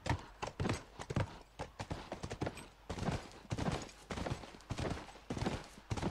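Hooves clomp in an uneven, rhythmic clip-clop from a horse in The Last of Us, quiet and fairly near, with irregular stumbling beats as the animal moves over steps.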